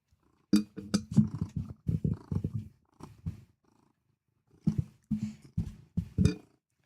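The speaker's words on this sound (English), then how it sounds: "I don't know if you guys can hear her purring." House cat purring up close in short, rhythmic rumbling bursts, pausing between breaths, with quiet gaps in between.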